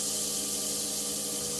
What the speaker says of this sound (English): Get a much better sanding job if I can sand in forward and reverse.